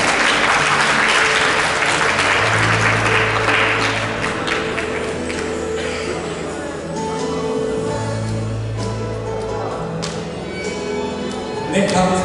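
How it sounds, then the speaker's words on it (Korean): A large audience applauds loudly and steadily at a school mentoring ceremony, a dense sustained clapping that fills the room with no speech over it. "큰 박수 부탁드리겠습니다."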